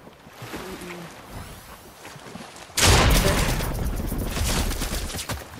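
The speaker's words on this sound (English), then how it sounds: "they're shooting at me!" Gunfire erupts in the Fortnite video game: after a quiet stretch with faint talk, a sudden loud burst of rapid shots begins and carries on as a dense, crackling barrage to the end.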